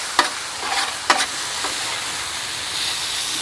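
Cheese sizzles on a hot grill for a Philly steak, with a steady soft frying hiss broken by a few sharp scraping or stirring clicks near the start, close and moderately quiet.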